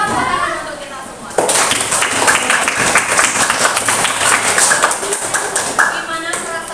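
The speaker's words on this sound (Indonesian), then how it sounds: "Tepuk tangan untuk kita semua." Audience applause breaking out at a group session, dense broadband clapping that swells abruptly after a short lead-in and carries steadily to the end, with some voices mixed in.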